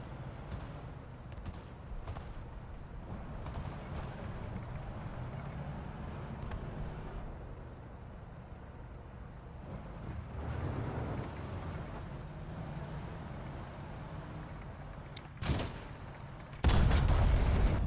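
A T-62M-1 tank in War Thunder rumbles under scattered distant battle thuds, then fires its main gun in a sudden loud blast near the end.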